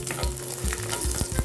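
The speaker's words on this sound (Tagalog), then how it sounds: "igigisa natin yung bawang" Garlic sautés in a hot pan with a dense, close sizzle, broken by several quick stirring scrapes in a short burst, with no speech.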